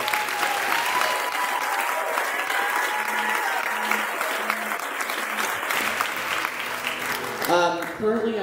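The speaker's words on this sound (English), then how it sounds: "So a round of applause for them, please." Audience applause for instructors fills the room, steady and fairly loud clapping from a crowd that holds for several seconds before tapering off, with a voice briefly heard at the end.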